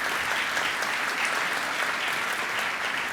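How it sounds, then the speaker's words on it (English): A large audience gives a steady, dense round of applause for elected officials at a union event. The clapping stays even and moderately loud throughout, with no talking over it. "So if we give them a round of applause,"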